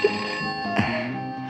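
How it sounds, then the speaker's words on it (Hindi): A telephone rings indoors in a Hindi-dubbed action film scene, an electronic bell-like ringtone with a sharp chirp partway through, sounding alone and fairly close. "फोन तो उठाओ"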